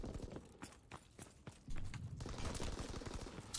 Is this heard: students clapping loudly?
no